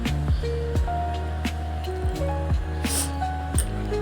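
A knife slices elephant foot yam into thin pieces, making close, moist cutting strokes that repeat at an uneven pace of roughly one to two per second, with no talking.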